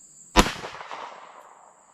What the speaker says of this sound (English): I'm going to shoot this 43X to compare.